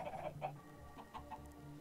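Chickens clucking in Minecraft, a few short, close, fairly quiet clucks in quick succession with no talk over them.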